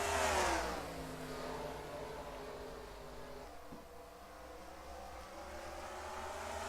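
Race cars on an oval track, several engines droning and rising in pitch as they pass, steady mid-distance roar with a louder surge at the start and no voices.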